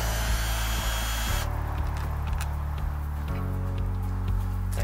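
A power driver with a Phillips bit backs out screws from an RV door lock plate, giving loud sustained whirring motor runs that shift pitch between bursts.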